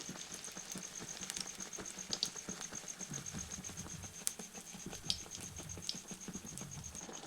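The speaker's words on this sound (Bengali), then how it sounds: "তো দিয়ে এগুলি ভালো করে দুদিকটি ভেজে নিচ্ছি হালকা লাল লাল করে" Battered eggplant slices fry in oil on medium-high heat, giving a constant close patter of fine bubbling crackles with a few sharper pops, no voices.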